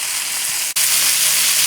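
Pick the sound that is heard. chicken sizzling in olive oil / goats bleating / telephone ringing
chicken sizzling in olive oil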